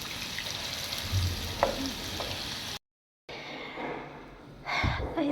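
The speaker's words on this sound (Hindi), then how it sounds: "आज पहले मैं प्याज को फ्राई करूँगी" Onions frying in a pan, a steady close sizzle with a brief break in the middle and occasional stirring scrapes.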